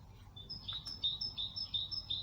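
A European goldfinch chirps in short, high repeated notes at a brisk rhythm near its nest among grapevines, fairly close and alone over a low background hum.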